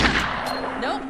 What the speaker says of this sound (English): Let me shoot out the latch. I might be a little rusty with this rifle.